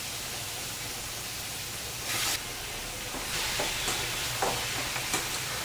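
Mutton pieces taken from the gravy go into fried masala whose oil has separated in a pan, giving a steady hiss and sizzle with louder bursts as the meat lands and is stirred, with no voices.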